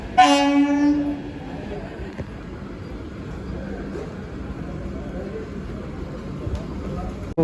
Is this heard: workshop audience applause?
no